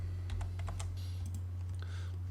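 Computer keyboard typing a short command in a CAD program: a quick burst of soft key clicks followed by a few scattered taps, close and faint over a steady low hum.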